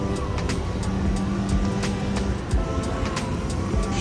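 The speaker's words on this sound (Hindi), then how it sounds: "सो बस ये टैक्सी आ गई है" A taxi, a Lexus, pulls up: a steady broadband road and engine rumble fills the moment, close and continuous, with ticking and small knocks over the top and no one speaking.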